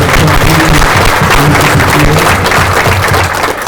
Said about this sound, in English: So I would like to give a round of applause to our guest.